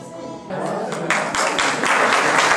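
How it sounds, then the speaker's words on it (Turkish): Audience applause rising to welcome a children's choir onto the stage at a religious birthday celebration, a crowd of clapping hands swelling from a quiet start into steady, dense clapping. "Alkışlarla buraya alalım."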